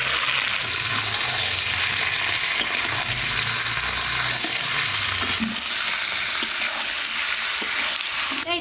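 Lemon-marinated chicken sizzles loudly in a pan of browned onions, a steady, dense frying hiss that runs throughout with occasional stirring scrapes, close and with no talk.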